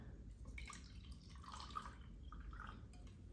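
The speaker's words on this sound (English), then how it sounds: "we'll just pour a bit of water in here" Water poured into a glass of REDMOND Re-Lyte lemon lime electrolyte drink mix, a soft, steady splashing trickle lasting a few seconds, fairly quiet and close with no talking.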